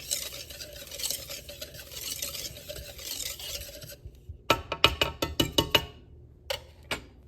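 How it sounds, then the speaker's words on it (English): Dry mochiko flour, sugar, baking powder and salt are whisked in a bowl, giving a steady close raspy scraping; the mixing then turns into a run of quicker, sharper ticks and taps on the bowl. "I'm just mixing here my dry ingredients, the mochiko, the sugar, the baking powder, and salt. I give that a good whisk."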